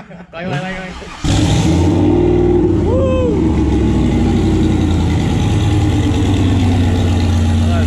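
A turbocharged Corvette fitted with a truck engine runs on a dyno, its engine catching after a brief crank and settling into a loud, steady, rumbling idle that fills the rest of the stretch, with voices audible early on.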